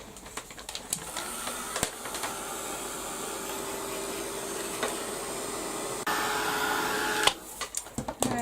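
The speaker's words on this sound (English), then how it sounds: "I'm going to give that a quick brush with the quick dry with the my heat gun" A heat gun drying a mixed media artwork gives a steady, close whooshing hum that runs almost the whole time, with a few sharp clicks at the start and end and a slight shift in tone partway through.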